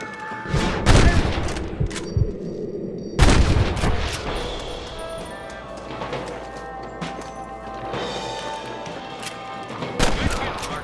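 Gunfire in the Western video game Red Dead Redemption: several loud, sharp gunshots crack out near the start and middle, with further shots later, among reverberating game ambience.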